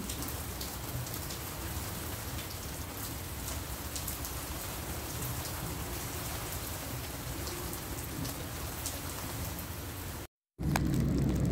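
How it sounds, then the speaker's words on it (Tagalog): Heavy rain in Dubai pours steadily and loudly, a dense continuous roar of drops hitting surfaces, with a brief cut near the end before it resumes. "Grabe ang lakas ng ulan dito sa Dubai."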